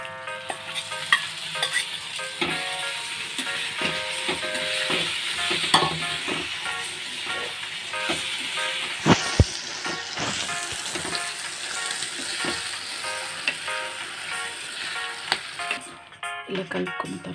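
Tempering for Andhra-style gongura pachadi with curry leaves sizzles and crackles steadily in hot oil, punctuated by stirring clinks and scrapes throughout, fairly close and moderately loud.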